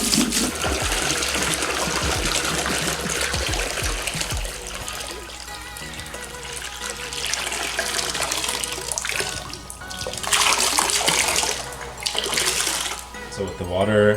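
Tap water gushing steadily into a roughly five-gallon portable pressure washer tank, a loud continuous rush and splash with shifting tone as the tank fills.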